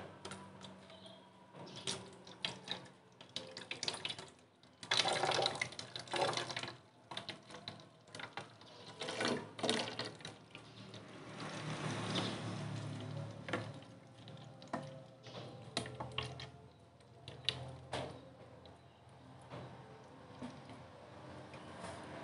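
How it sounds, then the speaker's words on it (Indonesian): Salt water mixed for bonsai care is poured from a measuring glass into a spray bottle, heard as intermittent close trickles and splashes with plastic handling knocks over about twenty seconds. "nanti kita masukkan ke dalam botol semprotnya ini oke okay? oke okay, kita tuangkan"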